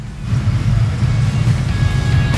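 A 1970 HEMI Dodge Charger restomod's engine runs loud and close, a deep, steady, throaty rumble that stays at an even level for a few seconds, with no voices over it.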